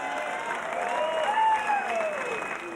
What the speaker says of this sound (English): Big round of applause then for Francis tonight.